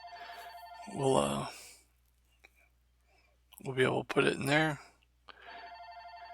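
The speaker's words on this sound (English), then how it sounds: "that noise you hear is my phone ringing" A mobile phone rings in a quiet room, a repeating electronic ringtone with steady pulsed tones at the start and end, partly under a man's low, whispered-sounding speech.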